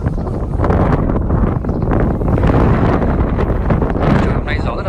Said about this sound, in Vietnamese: gió to thế này thì cành nó rơi kìa